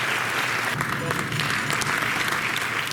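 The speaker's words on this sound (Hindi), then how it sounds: "आप सभी की जोरदार तालियां विमोचन के अवसर पर अपेक्षित हैं।" An audience claps for a book release at a Gorakhpur event: a few seconds of steady, fairly loud crowd applause with some scattered voices underneath.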